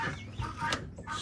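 Guinea fowl call in a rainy farmyard, giving harsh, raspy, repeated squawks that sound fairly close, with no one speaking over them.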